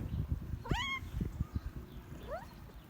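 A single clear cat meow rings out, followed by a fainter second meow a moment later, against quiet low rustling; male cats chasing a female.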